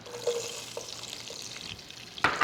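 Onions frying in a pan on reduced heat give a faint, continuous sizzle with a few soft scrapes, then a brief louder burst at the end.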